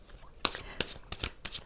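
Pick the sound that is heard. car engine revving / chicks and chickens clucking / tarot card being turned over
tarot card being turned over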